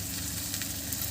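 Fish curry sizzling and frying in a pot over a village clay stove, a steady close crackle of hot oil with faint stirring scrapes, no voices.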